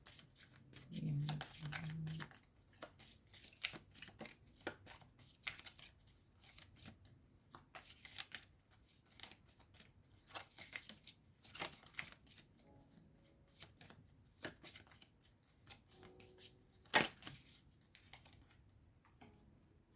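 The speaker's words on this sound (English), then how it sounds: "I'm going to try to pull one more card" A deck of tarot cards shuffled by hand, a series of soft, quick riffling and flicking bursts at irregular intervals, quiet and close, with one sharper snap near the end.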